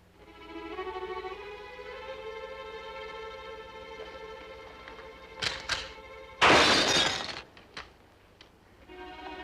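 In a western TV scene, rifle shots smash glass bottles: a few sharp cracks and then a loud burst of shattering glass over sustained background music.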